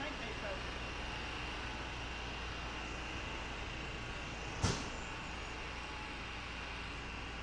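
A runaway two-stroke diesel engine, first started after 20 years, drones steadily at a constant pitch, somewhat distant and muffled, with one sharp knock about two-thirds of the way through.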